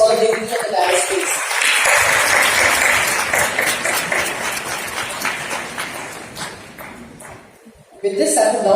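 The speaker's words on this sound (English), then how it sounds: "Let's give a big round of applause for the ladies of the dais" A crowd at a formal G20 health and youth event claps in a sustained round of applause lasting several seconds, then fades as a voice comes in at the close.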